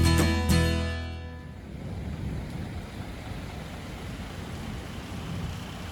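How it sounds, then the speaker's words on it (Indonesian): Rain begins falling at Pangandaran beach as a soft, steady hiss, fading in after a few sharp tonal notes at the start and continuing evenly at low volume. "hujan pun mulai datang."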